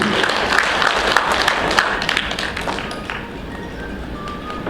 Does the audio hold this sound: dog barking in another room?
no